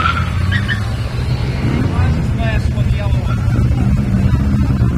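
A car pulls away at the start of a hill climb under a steady, loud engine drone with some high squealing, while voices talk over it.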